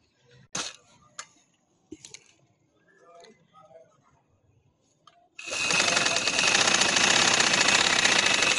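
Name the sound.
sewing machine stitching a sleeve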